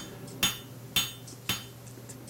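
Three sharp hammer blows ring out at an even pace on a hot steel leaf key fob stem being drawn out, the crowned hammer face acting as a fuller, each strike followed by a brief metallic decay.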